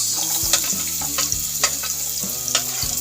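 Garlic and onion sauté in a pan for Filipino ginisang tahong (sautéed mussels), giving a steady close sizzle with a few sharp stirring scrapes and clicks spread through it. No voices are heard.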